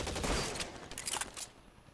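Gunfire from a shootout in L.A. Noire, two quick bursts of rapid shots, the first louder and the second a little lighter, then a fading tail.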